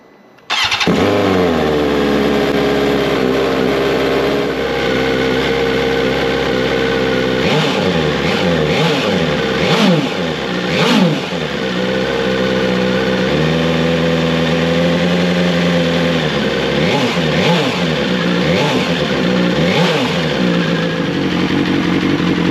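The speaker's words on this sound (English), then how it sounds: "start up and see what it looks, sounds like" A BMW S1000XR motorcycle fitted with a new Akrapovic exhaust starts up close by and settles into a loud, rough idle. Several sharp throttle blips rise and fall over the steady engine note.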